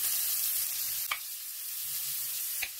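Garlic frying in a hot pan, a steady bright sizzle running throughout with two brief clinks of a utensil against the pan, close and alone without talk.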